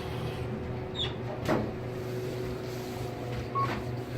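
KONE Ecospace machine-room-less traction elevator doors at a shopping centre give a clunk and a faint sliding rumble, with two short electronic beeps, over a constant low hum of cab and building noise.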